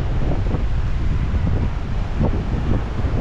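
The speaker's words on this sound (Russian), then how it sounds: "Вот они прям бьют и накрывают вот эти вот камни." Ocean waves crash and surge over rocks on a windy Sri Lankan shore, a continuous loud rumbling wash with heavy wind buffeting the microphone and no clear individual breaks.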